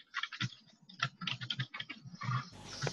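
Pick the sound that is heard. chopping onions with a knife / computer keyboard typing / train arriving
computer keyboard typing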